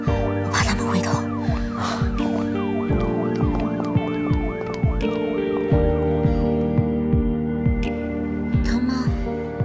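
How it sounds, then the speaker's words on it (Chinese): A recorded police siren played from a mobile phone wails in repeated rising and falling sweeps, loud and continuous throughout, with short rhythmic pulses underneath and no talk. "用手机放了警笛的录音"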